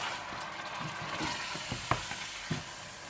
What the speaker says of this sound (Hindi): और अब आप गोश्त को अच्छी तरह से भून लीजिए।